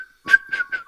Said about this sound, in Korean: 휘파람입니다.